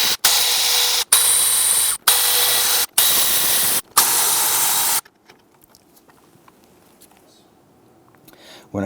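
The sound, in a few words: power tool removing valve cover bolts on Jeep V6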